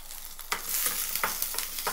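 Onion, garlic, green chili and ginger sizzle and fry in hot oil, with a steady close crackle and a few louder stir bursts as a ladle moves them.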